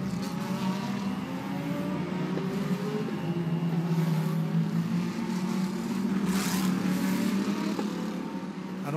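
GT race cars at the Macau Grand Prix street circuit roar past, their engines revving and shifting through gears in overlapping, sustained waves over a dense, continuous mechanical drone.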